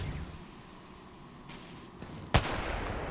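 A single sharp, loud Kraber sniper rifle shot from a video game cracks out near the end, following a stretch of low, steady background noise.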